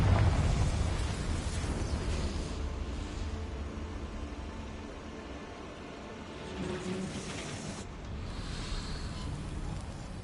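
A Confringo fire spell explodes in Hogwarts Legacy with a deep rumbling blast at the start that fades into a long hissing, roaring tail, then swells again with a few more bursts later.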